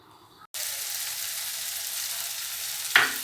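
Lentils hit hot oil and burst into a loud, dense sizzle that holds steady after a brief quiet start, with one sharper crackle near the end.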